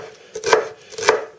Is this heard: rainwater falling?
no